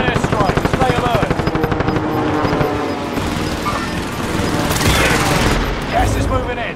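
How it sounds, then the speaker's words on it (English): Sustained automatic gunfire and heavy explosions from an enemy precision airstrike in a shooter video game, rapid bursts up front giving way to a dense roar of blasts and debris. "Strike inbound. Enemy precision airstrike."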